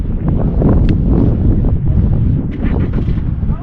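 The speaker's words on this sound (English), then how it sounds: "there's also a headwind too, but it's also behind me as well" Wind gusting over the rim of Bryce Canyon in Utah, a loud, steady, rumbling roar buffeting close against the microphone with no break throughout.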